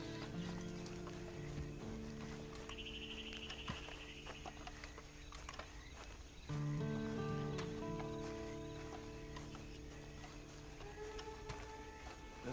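Hooves clip-clop rhythmically as a horse is ridden in the Western video game Red Dead Redemption 2, soft repeated beats under sustained game music and ambient tones.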